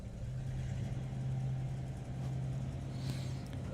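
A Corvette drag racing car sits idling in its lane at a drag strip, a steady low engine drone holding continuously throughout with a faint brief rise near the end, no talk over it.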